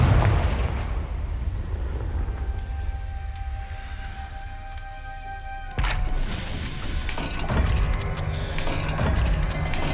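A Confringo blasting spell goes off in Hogwarts Legacy, a loud booming burst followed by a bright crackling explosion and rumbling debris that keeps roaring for several seconds.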